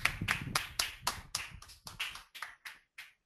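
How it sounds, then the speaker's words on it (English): Clapping for the day's winner of a GRE Academy Award, heard as a short run of distinct, fairly close claps that thin out and slow toward the end, with no talking. "Give a big round of applause for Ankit Singhai."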